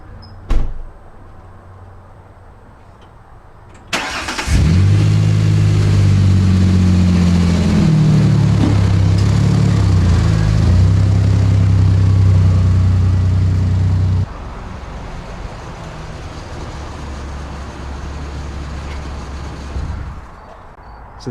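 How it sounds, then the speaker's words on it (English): A 2003 Ford Ranger XLT with a 4.0 SOHC engine sets off on a test drive. A door thunks shut, the engine starts and holds a loud, steady drone with shifting tones, then a quieter cabin rumble carries on, with no talking. "and go for a test drive"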